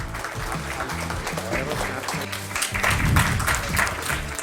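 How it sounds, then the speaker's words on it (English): Audience applause at a medical awards event, clapping beneath loud music with a steady bass pattern and some talking. "Can we have a huge round of applause?"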